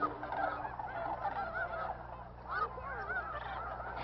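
Geese honk at Bosque del Apache National Wildlife Refuge in New Mexico, a flock calling over one another in overlapping bursts, at a moderate distance and fairly faint.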